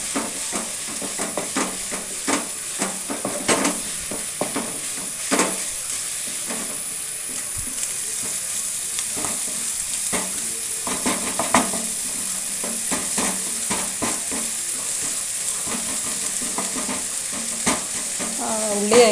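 Onions frying in a pan for noodles, a continuous close sizzle broken by frequent scraping strokes of a spatula as they are stirred, steady and moderately loud without voices.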